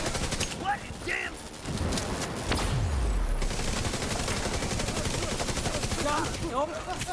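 Rapid video game gunfire with EMP weapons fills the scene in dense, continuous machine-gun bursts and a fusillade, loud and near, with game effects in the mix.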